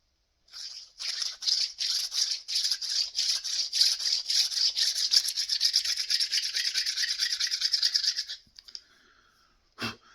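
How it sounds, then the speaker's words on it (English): Rapid, continuous gritty scraping and grinding, a hand drill working through stone with a steady rhythmic rasp for several seconds, then stopping. "I could use them as hand drills to get through here"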